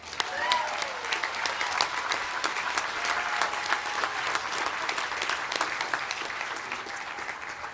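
An audience at a university undergraduate commencement applauds graduates in sustained, dense clapping that holds steady and loud throughout, a large crowd heard up close.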